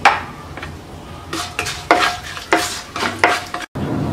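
Whole spices go into hot oil in a pan: bay leaf, a cinnamon piece and cardamom pods. The close, bright sizzle rises in several bursts as each one lands, with a few utensil scrapes in between.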